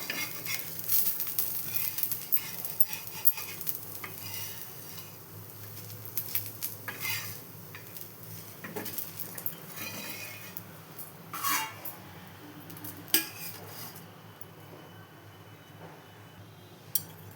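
Ragi dosa is lifted off a hot pan: a faint, steady low sizzle with scattered light scrapes and clinks of a spatula against the pan, no talk.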